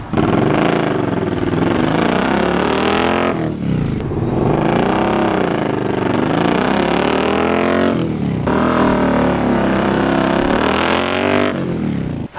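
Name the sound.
Indian Scout 60 motorcycle accelerating across a parking lot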